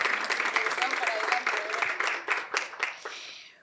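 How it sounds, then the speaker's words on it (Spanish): An audience claps steadily, with a scattering of distinct hand claps thinning out toward the end, while a voice speaks faintly underneath. "Aplausos, claro."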